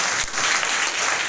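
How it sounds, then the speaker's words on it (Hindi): Loud applause from a crowd at a DXN meeting in Salempur, a dense burst of clapping that fills the whole moment at close range, given in honour of Kashi sir. "तो एक बार हम काशी सर के लिए जोरदार ताली चाहते हैं"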